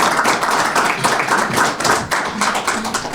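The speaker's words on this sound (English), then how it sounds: "I thank you for that round of applause" A crowd at a county youth bureau holiday gift drive gives a round of applause: dense, steady clapping from many hands, fairly close and loud, lasting several seconds with no voices.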